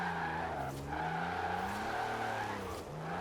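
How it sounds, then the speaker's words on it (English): A diesel drift car in Forza Horizon 4 spinning its wheels, heard as a steady, quiet engine drone with squealing tires that rise and fall in pitch throughout. "It still spins its wheels."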